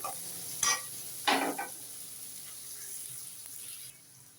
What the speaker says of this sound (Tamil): தக்காளி மட்டும் கொஞ்சம் நல்லா வதங்கட்டும்